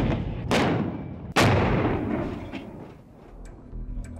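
Heavy gunfire and artillery in a battle from the 1999 India-Pakistan war: two loud, booming blasts a second apart, each rolling into a long echoing decay, then fainter distant thuds and cracks.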